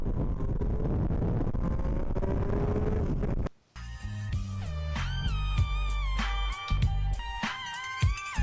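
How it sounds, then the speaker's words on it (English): A 2020 Triumph Street Triple RS in sport mode accelerates hard using its quick shifter. Wind rush gives way to a close engine that climbs in pitch through several quick upshifts. "I'm just gonna open her up, sport mode, and we'll use the quick shifter."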